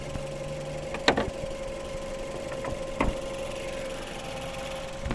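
A 2011 Mazda 6 2.0 petrol engine idles with a steady, even hum, punctuated by a couple of sharp clicks or knocks nearby.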